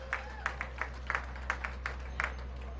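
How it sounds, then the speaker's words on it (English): Sparse, scattered handclaps from a small outdoor crowd at a street event in Washington, DC, with about a dozen separate claps over a steady low hum. "Give them a big round of applause."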